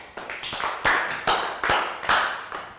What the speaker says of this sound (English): Round of applause for Lakgao.